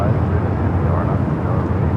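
A Lufthansa heavy airliner rolls for takeoff on runway 24 at Los Angeles International Airport, a loud, steady broadband jet roar that holds constant throughout with a strong low rumble.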